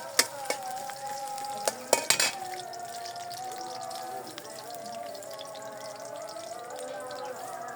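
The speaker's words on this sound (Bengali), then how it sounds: "পেঁয়াজ কুচি দিয়ে দিই, তেল দিয়ে দিই, নাড়াচাড়া দিয়ে দিই।" Chopped onion frying in oil in a Bangladeshi village kitchen, a low steady sizzle with a few sharp clatters of a utensil stirring in the pan early on, then settling into a quieter simmer.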